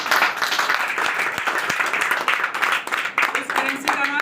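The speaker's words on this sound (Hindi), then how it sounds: "जोरदार तालियां बजाएं" Audience applause at a seminar, a dense, continuous wash of clapping from a crowd that stays loud and steady, with voices mixed in underneath.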